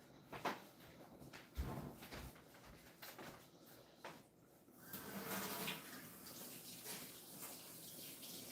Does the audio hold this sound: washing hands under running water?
yes